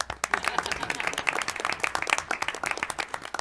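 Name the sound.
applause, clapping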